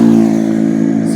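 A Sonalika tractor engine runs loud and near with a steady, even throb and no change in speed, alone without talk.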